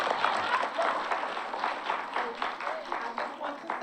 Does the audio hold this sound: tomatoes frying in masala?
no